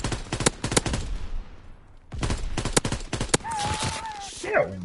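Rapid bursts of gunfire while running down a street in a Western video game with Comanches, sharp repeated shots in clusters, a brief pause, then more volleys alongside other game sounds; someone talks over it.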